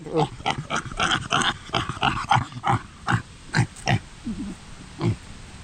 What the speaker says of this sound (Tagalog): Baboy na nakatali.